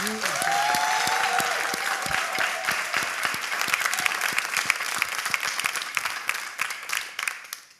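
A church choir audience breaks into warm, sustained applause, many hands clapping densely at first, then thinning out and fading toward the end, with a brief sung or voiced tone over the start.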